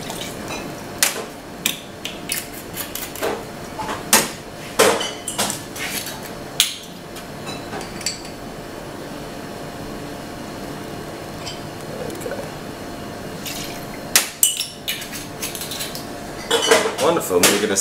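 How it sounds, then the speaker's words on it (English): Ice in a mixing glass clinks and rattles irregularly as a bartender stirs a Tuxedo #2 cocktail of gin, dry vermouth and maraschino liqueur. There are crisp taps and knocks between quieter stretches, and a busier burst of stirring at the end. "we're going to stir"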